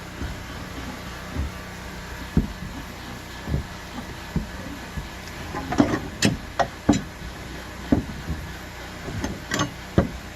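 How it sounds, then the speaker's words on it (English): Hammer knocking at a bracket on a wooden cabin being moved, a series of irregular dull thuds and sharper knocks, sparse at first and then clustered, at moderate distance. "Knock that bracket off if you can."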